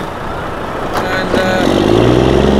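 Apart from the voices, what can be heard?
Volvo FM 500 truck being pulled out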